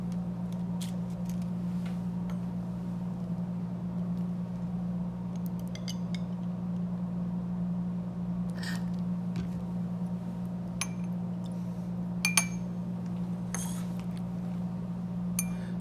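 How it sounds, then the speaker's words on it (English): A glass rod stirs sugar and deionized water in a small 50 ml glass beaker, giving faint intermittent clinks and light taps against the glass over a steady low background hum, with no talking. "Swirl the content using a glass rod until all the solid dissolve."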